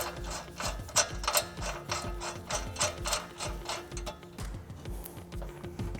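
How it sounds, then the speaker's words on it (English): A ratchet starting a ball joint nut on a RAM 1500 truck, a quick run of about a dozen evenly spaced clicks followed by a few slower clicks, close and clear, with no talking. "I'll start my nut for our ball joint"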